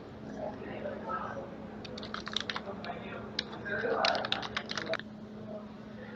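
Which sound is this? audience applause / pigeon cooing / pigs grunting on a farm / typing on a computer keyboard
typing on a computer keyboard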